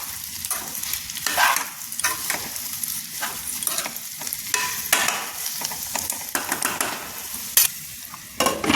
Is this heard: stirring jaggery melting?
yes